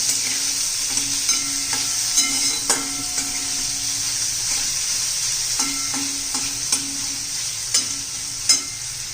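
Onion with ginger-garlic paste, cloves and peppercorns sautés in a pan for a spicy peas-and-potato dish, a steady hiss of frying broken by repeated scraping stirs and occasional utensil clicks.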